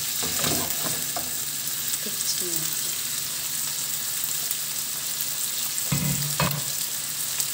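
Bacon for carbonara frying in a pan and stirred with a wooden spoon, a constant close sizzle with scraping stirs and a few knocks against the pan.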